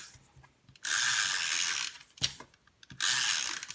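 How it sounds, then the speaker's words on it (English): An adhesive tape runner rolls along paper edges in two steady, close scratchy passes with a click between them, quiet and alone without talk. "we'll just take our adhesive and just run it on all 4 sides."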